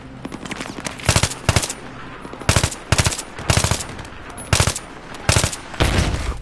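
Repeated bursts of rapid automatic video game machine gun fire from Battlefield 3, loud and sharp, in short volleys separated by brief pauses.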